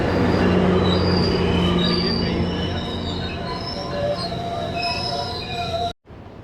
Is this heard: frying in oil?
no